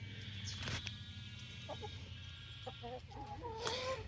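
Chickens on a Central Texas homestead clucking and crowding around a door, several soft clucks and short calls over a faint low background hum, fairly quiet and close.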